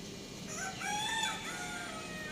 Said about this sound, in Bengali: ওই ঘরটাতে মোরগ ডাকতেছে